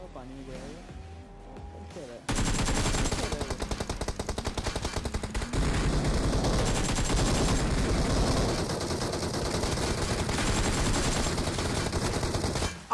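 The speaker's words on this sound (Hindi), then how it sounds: "कितनी गोलियां चलाओगे, एक एक गोली हो तो" Sustained automatic gunfire in the PUBG battle royale game, likely an M416 assault rifle spray, erupts after a quieter opening and continues loud and dense with rapid bursts, while a player talks over it.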